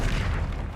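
A Confringo fire spell blasting in the Hogwarts Legacy video game: a short, loud, dense boom-like burst lasting under a second.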